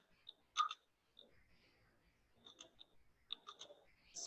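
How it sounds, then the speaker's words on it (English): Typing on a computer keyboard in a quiet room: sparse, light key clicks in short irregular bursts, faint and close, separated by brief pauses. "Let me just type something"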